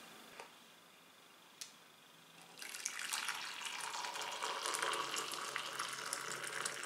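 Water from a Tefal KO29913E electric kettle pours steadily into a vessel, a bright continuous splashing stream that starts after a couple of faint clicks and runs on alone, close and moderately loud.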